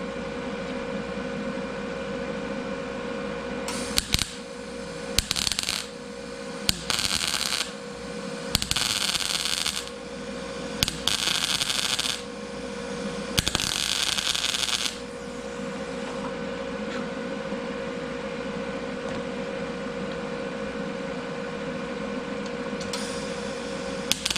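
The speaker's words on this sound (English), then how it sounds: "I'm going to try to use the welder and weld back up." A welder filling a pinhole in the rear arch panel of a Datsun 510, heard as several short bursts of crackling buzz, each a second or two long, separated by pauses over a constant shop hum.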